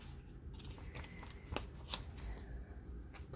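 Cigarette cards handled in a box, giving close, faint papery shuffles and a few sharp flicks and snaps spread unevenly over a quiet background, with no one talking.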